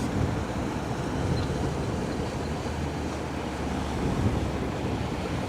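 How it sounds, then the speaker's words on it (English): Steady rushing and sloshing of water pushed along the hull of a passing 400-metre container ship on the Westerschelde, a continuous broadband wash with some wind noise, no voices. "I hear the water a lot better. The water being pushed around."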